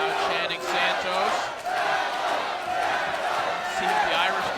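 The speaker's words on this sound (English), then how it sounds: "Crowd chanting Santos." A large arena crowd at a fight in Connecticut chants in a steady, loud, rhythmic roar that fills the whole stretch without pause.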